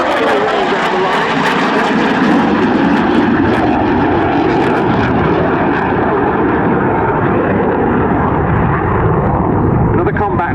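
A Dassault Rafale fighter jet at the RAF Cosford Airshow makes a loud, sustained roaring jet rumble that fills the whole stretch, with a commentator's voice talking over it.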